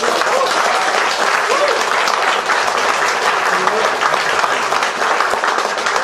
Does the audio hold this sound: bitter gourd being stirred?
no